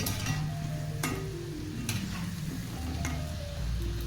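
Onion bhaji fritters fry in hot oil with a steady, close sizzle and a few faint clicks and stirring taps, with no voices.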